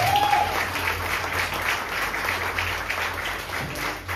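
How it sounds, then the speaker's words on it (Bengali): Loud, sustained applause from a Durga Puja crowd after a children's play, steady clapping throughout with a brief whistle near the start. "এই ছোটদের জন্য আরেক রাউন্ড খুব জোরে হাততালি হয়ে যাচ্ছে"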